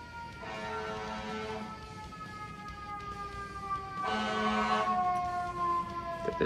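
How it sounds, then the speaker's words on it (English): An ambulance siren wails along a road, a steady rising-and-falling tone that swells louder toward the end as it passes, with traffic rumble beneath and no talking. "an ambulance has appeared, not even 15 seconds into the video"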